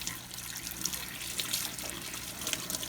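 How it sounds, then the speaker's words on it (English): Hot water runs from a tap over a bar of soap wrapped in wool as it is squeezed, a steady close splashing stream with soft irregular bursts, alone without voices. "you're going to just run your soap under the water"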